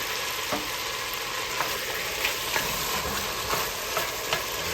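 Shrimp added to a pan of garlic and kielbasa sizzles steadily, with soft stirring scrapes and small clicks over the continuous frying hiss.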